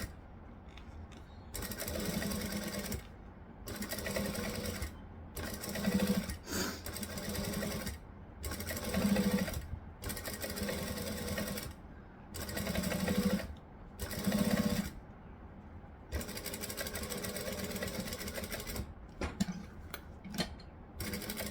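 A sewing machine stitches a fabric tote bag in repeated rapid bursts, each run of clattering stitches separated by short silent pauses for pivoting.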